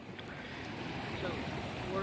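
A faint, steady rushing wash of waterfall noise coming from blocks in a video game, a continuous broadband hiss with no distinct events.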